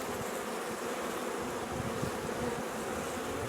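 Honey bees buzzing around an open three-deep, eight-frame hive at a farm, a dense, steady hum of many insects close by, continuous and even with no voices.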